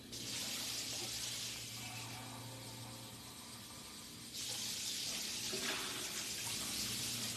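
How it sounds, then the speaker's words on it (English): Water pouring from a tap into a pot of oxtails being prepped for braising, a steady close splashing stream that briefly eases and then runs strong again. "I want a nice broth, so I'm gonna add a little more water to this."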